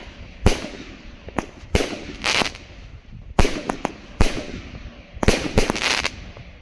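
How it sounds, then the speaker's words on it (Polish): Dino Max firework battery firing 20 mm crackling shots outdoors: a string of sharp loud bangs, some doubled, each trailing into a bright sizzling crackle, with short gaps between bursts. "No takie dosyć fajne to 20 mm cracklingiem."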